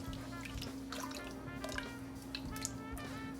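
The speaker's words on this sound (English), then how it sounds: "I'm just going to pour this over them." Sauce is poured over two chicken breasts in a crock pot, giving soft wet glugs, drips and squishy splatters close by over a steady low hum.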